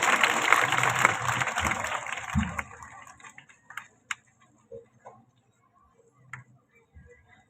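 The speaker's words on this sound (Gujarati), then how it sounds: "આપણે સૌ જોરદાર તાળીઓથી એમનું અભિવાદન કરીશું" Audience at a primary school inauguration in Bhagupur clapping: dense, close applause for about three seconds that thins out into a few scattered, fading claps.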